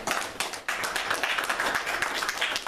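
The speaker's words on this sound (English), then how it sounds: "Let's give them a warm round of applause." An audience applauds for young people at a community gathering, a dense, steady patter of many hands clapping at close range for a few seconds with no talk.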